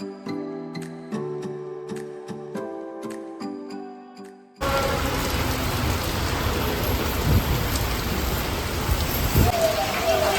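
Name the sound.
hailstorm with heavy rain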